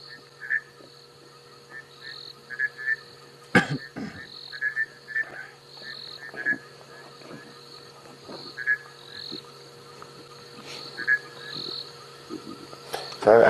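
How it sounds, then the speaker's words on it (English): Bushveld rain frogs call from nearby in the bush, giving short, repeated nasal croaks in loose intermittent bursts over a steady background of insects, with a brief louder knock partway through. "we can hear some bushveld rain frogs calling now. That wah, wah, there, that noise there."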